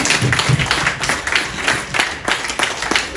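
An audience claps to welcome a speaker at a gathering of the journalist community, a loud, dense burst of applause with irregular swells that keeps going without pause.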